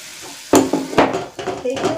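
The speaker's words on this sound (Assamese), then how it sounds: "সেইখিনি ভালদৰে মিক্স কৰি দিছোঁ।" A spoon stirs ground tomato into fried onions in a hot pan, giving several clattering scrapes and knocks against the metal over a steady sizzle.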